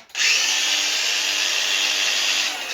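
A power tool cuts material for a flowhood in a steady, loud, high-pitched whir that runs continuously for a few seconds, close up and alone.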